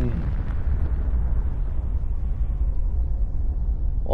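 A nuclear blast in Fallout 4 rolls out as a deep, loud, sustained rumble that slowly fades, alone with no voices.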